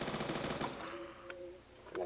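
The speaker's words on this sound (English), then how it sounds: "So now I have a rifle, and then I can shoot the zombie." Rifle fire aimed at a zombie in a zombie survival video game, a burst of quick gunshots at a moderate level over a steady game background.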